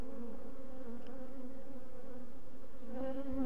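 A steady, close-up drone of many honeybees humming together in a hive, with a low buzzing that swells slightly near the end.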